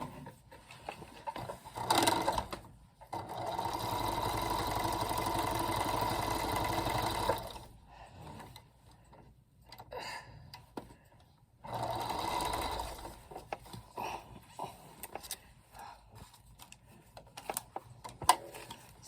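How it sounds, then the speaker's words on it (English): A sewing machine runs in two long, steady bursts of rapid stitching, separated by quiet pauses with light handling clicks. "I'm just going to go to my sewing machine over here and sew it."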